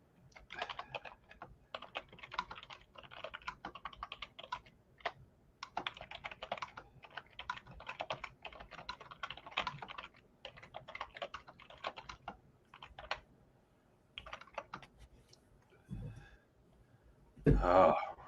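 Rapid keyboard typing clatters in bursts of keystrokes close up, with brief pauses, and a short throat clearing or grunt at the very end.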